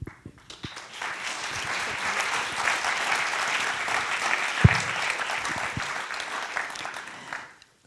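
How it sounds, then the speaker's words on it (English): An audience at an architecture talk in Liechtenstein applauds steadily for several seconds, a dense, even wash of clapping from a roomful of people, with one louder thump partway through. "And please, an applause."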